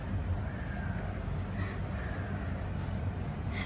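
A crow caws a few times at a distance over a steady low background hum outdoors near a temple, faint and brief.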